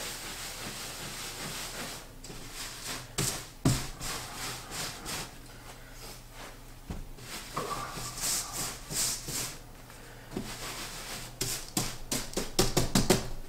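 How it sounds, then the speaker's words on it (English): A car wash brush scrubs in circles over a plaster wall, giving bursts of rough, hissing rubs and scrapes with short pauses and a few sharp knocks, close and fairly loud. "Now take the car wash brush. I'm gonna work it in circles."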